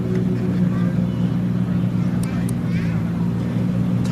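A Toyota Tundra pickup at a drag strip gives a steady, low, droning engine hum, heard from a distance under people talking.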